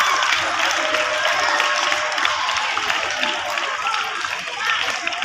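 Crowd of students cheering and clapping at a school investiture ceremony, a steady, loud wash of voices and applause throughout.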